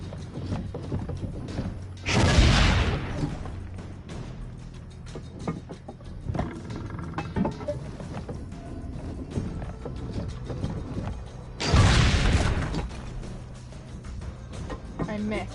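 Two heavy cannon blasts in Assassin's Creed Brotherhood, each a loud broadband boom with a rumbling tail, about ten seconds apart, separated by mechanical creaks, clanks and ambient game noise.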